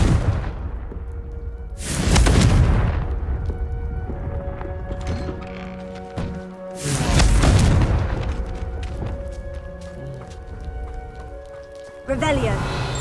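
Confringo blasting spell explosions in a Harry Potter video game: two deep booming blasts with crackling tails, separated by a few seconds, over a steady background of game ambience, with a sharper burst at the end.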